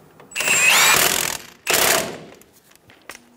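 A power tool rattles hard as it snugs down the sway bar link nut on a 2005-2010 Toyota Tacoma front suspension, running in two loud impact bursts with a short gap between them, then falling quiet.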